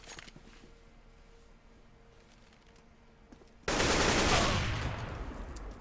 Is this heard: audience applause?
no